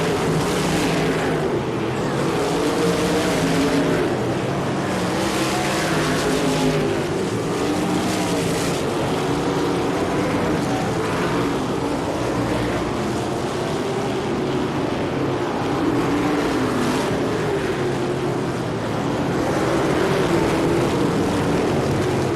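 USAC sprint cars racing around an oval dirt track through turns three and four, a continuous loud roar of several engines rising and falling as the field passes, with no talk over it.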